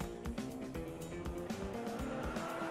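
Los Angeles street traffic, with cars rumbling and passing close by in a busy steady wash, rhythmic tire thumps, and faint background voices mixed in.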